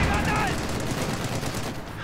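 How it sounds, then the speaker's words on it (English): Machine guns fire in the real-time strategy game Company of Heroes 2, giving loud, rapid bursts of gunfire with a dense rattling texture through the whole two seconds. "Machine guns just really tear up one squad member already right there."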